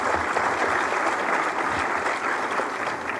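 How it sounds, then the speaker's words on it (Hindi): A crowd at a UP Nivesh Mitra investors' event applauds loudly, a thick continuous wash of clapping that holds steady for a few seconds. "आपकी जोरदार तालियां चाहता हूं"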